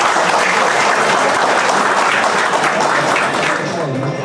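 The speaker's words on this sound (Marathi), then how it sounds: "त्यांच्यासाठी पुन्हा एकदा जोरदार टाळ्या व्हायलाच पाहिजे." An audience gives loud, sustained applause for honoured guests at a police felicitation ceremony in Jogeshwari, Mumbai, a dense crowd of clapping hands that stays strong throughout.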